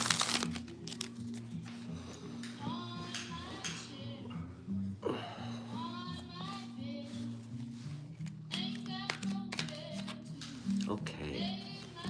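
A deck of tarot cards is shuffled by hand, giving repeated crisp riffling and crinkling bursts close by while a voice talks throughout.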